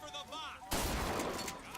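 A sudden burst of gunfire in the video game Bioshock Infinite, cutting in loudly after a quieter stretch and continuing as a dense, rolling volley.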